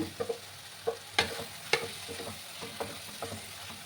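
Potatoes go into spices frying in a pan for an echor chingri (jackfruit and prawn) curry, giving a soft sizzle under a series of sharp scraping stirs and clacks from a spoon.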